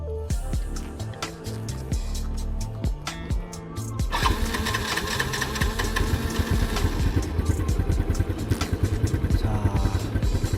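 A motorcycle engine starts and settles into a loud, steady running rumble close by, following a stretch of other mechanical noise.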